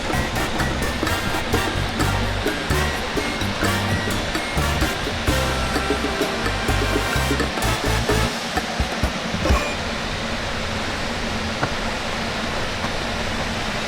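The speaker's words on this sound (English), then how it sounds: "I love waterfalls" Waterfall at Sweet Creek rest area near Metaline Falls, Washington, a continuous broadband rush of falling water heard up close, with some low rumbling bumps early on that fade out.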